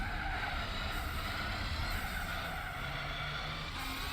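A race car in the Gran Turismo video game skids in snap oversteer, a steady loud roar of engine and tire scrub with faint squeal lines running under it, no voice.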